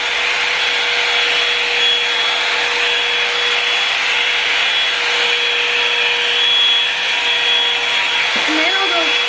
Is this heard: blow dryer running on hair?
yes